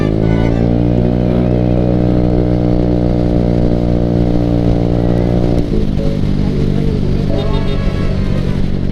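A motorcycle engine runs loud and steady while riding on a touring trip, its harmonic drone holding one pitch and then dropping as the rider shifts, with wind noise throughout.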